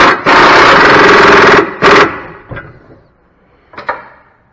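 An impact gun tightens a sway bar end link in a loud, close burst of hammering buzz, then two shorter bursts follow with gaps between them.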